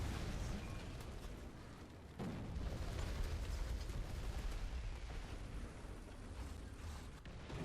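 Artillery fire in War Thunder arcade tank battle, heavy rumbling booms and explosive bursts filling the scene, with a sharp loud impact partway through over continuous dense battle noise.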